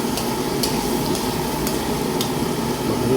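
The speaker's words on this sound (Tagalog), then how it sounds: "Magluluto tayo ng atay balunan guys" Chicken liver and gizzard frying in a pan, a steady close sizzle with a few sharp scrapes of a utensil stirring against the metal at regular intervals.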